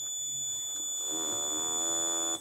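A loud, piercing alarm buzzer on a Raspberry Pi obstacle-detection device sounds continuously at close range, a harsh sustained electronic tone with a rough vibration-motor buzzing layer joining partway through.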